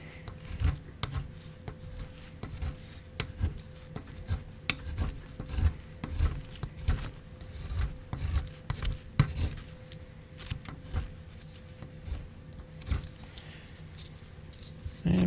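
Wood carving gouge taking rough wood off a Santa ornament: repeated short scraping, rasping strokes close by, steady and uneven in rhythm, with faint incidental sounds and no talk.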